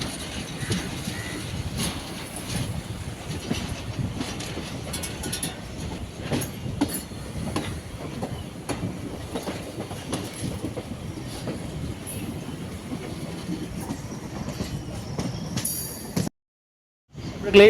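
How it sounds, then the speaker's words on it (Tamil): A freight train rumbles past close by near Korukkupet railway station, heard from an EMU train between Tiruvallur and Ponneri, a steady clattering of wagons and wheels that continues for a long stretch before abruptly cutting out near the end. "இப்போ இந்த கூட்ஸ் வருது பார்த்தீங்களா"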